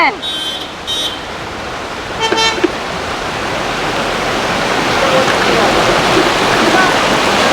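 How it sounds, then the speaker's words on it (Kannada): A loud, steady roar of the Ghataprabha river's rushing water fills the clip, building slightly, with a couple of brief horn toots near the start. "ನೋಡಿ ಘಟಪ್ರಭಾ ಹೆಂಗೆ ಬೋರ್ಗರಿತಾ ಇದೆ."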